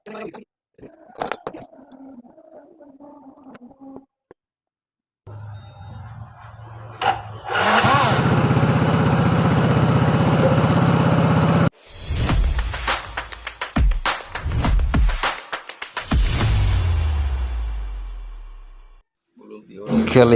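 A Yamaha Mio 115 scooter engine fitted with a new cylinder block, 54P piston and rings starts after some clicks and tool handling, then runs loud and steady before rough revving and stopping.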